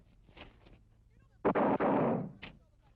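A firing range volley follows a soft voice: one sudden loud blast of simultaneous rifle shots that roars and rumbles for about a second, then a single sharp shot.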